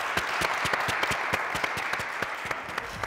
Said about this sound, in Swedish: Applåder!